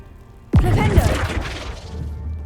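A Flipendo spell in Hogwarts Legacy lands with a sudden sharp crashing impact, a loud whack followed by a scattering, rattling decay over about two seconds.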